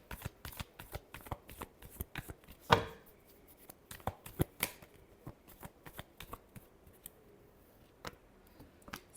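Tarot cards being shuffled by hand: a quick run of crisp riffling clicks and slaps, with one sharper snap partway through, heard up close against a quiet room, no one talking.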